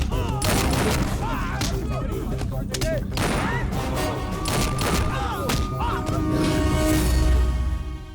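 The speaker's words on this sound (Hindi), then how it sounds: "यहाँ पार्टी में फायरिंग हो रही है।" Rapid, dense bursts of gunfire crackle and boom at a party, mixed with shouting voices and other crowd noise throughout.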